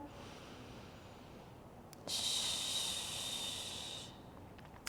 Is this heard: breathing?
yes